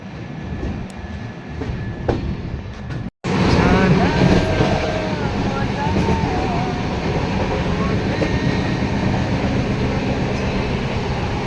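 A train rumbles steadily along the rails into Durgapur Junction with a faint rhythmic clatter, loud and continuous after a brief cut near the start.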